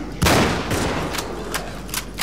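Gunfire in the video game Cryostasis: a loud opening shot followed by several sharper, scattered shots with short decaying tails, spaced unevenly over a couple of seconds.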